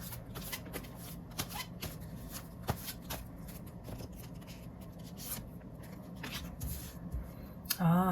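Tarot cards are shuffled and drawn for a reading, giving a steady run of soft papery riffles, slides and flicks with a few sharper snaps, close and fairly quiet, with no talking.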